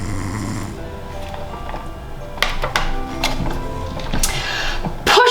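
Loud, rhythmic snoring from a construction dump truck in a bedtime story, with drawn-out rasping breaths and a few sharp clicks and taps near the end.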